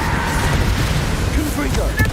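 A spell blast erupts in the game Hogwarts Legacy, loud rumbling booms and crackling bursts close up, with a voice briefly calling out over the din.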